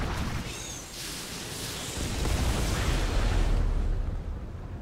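Artillery fire and explosions rumble from a StarCraft 2 co-op match with Terran Mengsk on Temple of the Past. A dense, continuous barrage of blasts swells toward the middle and then slowly fades.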